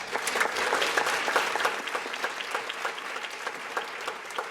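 Applause at a community foundation awards ceremony, a steady round of clapping from a modest crowd with individual claps audible, lasting several seconds at moderate loudness.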